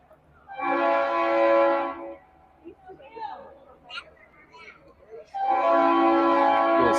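A loud train horn blares in two long sustained blasts near a baseball field, with a stretch of crowd chatter and field noise between them.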